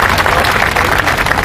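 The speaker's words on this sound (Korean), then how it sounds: "힘찬 박수로 격려해 주시기 바랍니다" Crowd applause at a Korean public rally marking the June 10 Democratic Struggle commemoration, a dense steady wash of many hands clapping throughout with no gaps, broad and fairly loud from start to finish.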